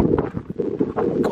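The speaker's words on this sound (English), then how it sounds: "God, that's windy." Strong outdoor wind buffets the microphone on fireworks night, with low gusty rumbling and irregular bursts that come and go over a second or so, loud and close with no talk.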